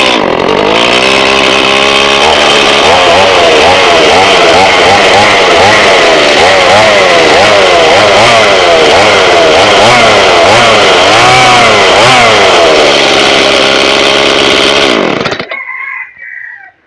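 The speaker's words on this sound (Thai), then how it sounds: "เมื่อเราดึงเลื่อยมันจะติดทันทีหนึ่งถึงสองครั้ง" A two-stroke Stihl chainsaw engine roars loudly and steadily for about fifteen seconds after starting, its pitch rising and falling in repeated revs, then cuts off abruptly.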